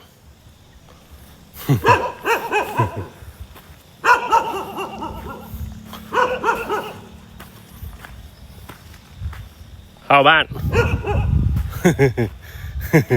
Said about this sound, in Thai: เฮ้ยเห่าทำไมล่ะ